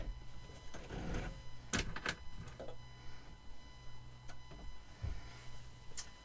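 A sewing machine stitches fabric for an Easter lily craft, giving short bursts of quick mechanical ticking and whirring with pauses between runs, fairly quiet and close.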